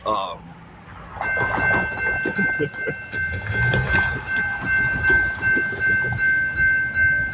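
A train passes on tracks close by, with steady rumbling and clattering wheels, a sustained ringing tone, and a loud rolling wash that swells and fades, heard without talk.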